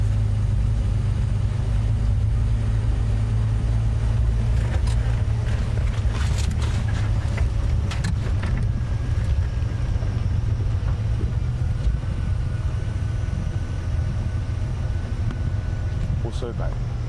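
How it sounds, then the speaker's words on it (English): A safari vehicle's engine idles along at low revs on an evening game drive, a steady low hum running the whole time beneath talking, with faint scattered clicks and creaks. "we're keeping the engine revs really low, so as quiet as possible"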